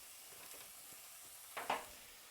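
Bison frybread frying in lard in a very hot pan, a soft, steady sizzle with a couple of brief louder crackling spurts near the end, close and quiet with no talk.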